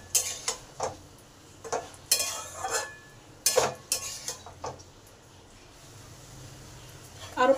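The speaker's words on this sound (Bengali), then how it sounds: "ডালটা ভালো করে আলু আর ডাঁটার মধ্যে মিশিয়ে দিই" A spoon scrapes and knocks around a pot as lentils are mixed into potatoes and stalks, irregular clinks and scrapes close by with quiet gaps between strokes.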